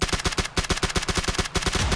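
Rapid automatic gunfire in PUBG, a fast, evenly spaced burst of loud, sharp shots rattling continuously for two seconds, close and unbroken.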